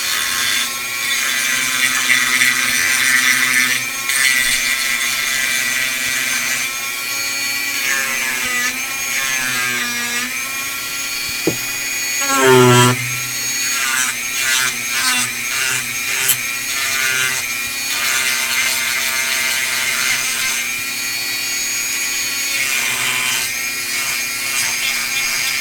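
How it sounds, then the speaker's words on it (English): Dremel rotary tool grinding down material on a glass construct build so it sits flat, a steady high-pitched whine under background music, with one louder burst of grinding near the middle. "So here we go with the Dremel."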